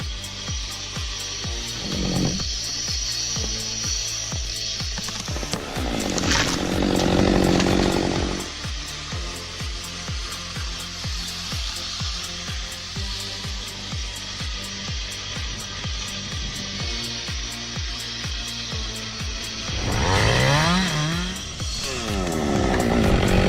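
A Stihl MS-192 chainsaw runs steadily and loudly up close, with a dense, buzzing two-stroke drone throughout and brief rises in pitch and load around six and twenty seconds as it revs or bites into wood.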